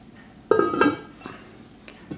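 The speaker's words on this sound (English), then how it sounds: "I'll place this Dutch oven in my oven" A cast iron Dutch oven clanks as it goes into a kitchen oven, a sharp metallic clatter followed by a second knock and a few faint scrapes and taps, close by.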